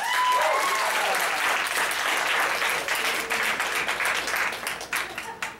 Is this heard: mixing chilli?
no